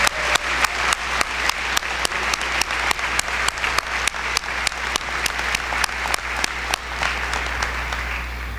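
A graduation audience at a military academy claps for its faculty and staff. The applause is loud, dense and sustained, then thins slightly toward the end, with no speech over it.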